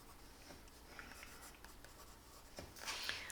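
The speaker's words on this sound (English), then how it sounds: "I'm coloring all of this." Colored pencil shading on paper while coloring an eye drawing, a faint, close, continuous soft scratching with small irregular strokes and a brief brighter rasp near the end, no talk.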